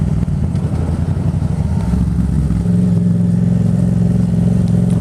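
A 2018 Yamaha MT-07 motorcycle fitted with an aftermarket Haro exhaust, idling loud and close with a steady low rumble that thickens and rises slightly into a rev partway through.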